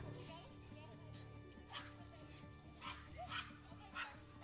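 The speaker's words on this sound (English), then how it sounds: "Get your dog!" A dog barks and yips several times in short bursts over a steady background hum, with a few sharp calls standing out toward the end.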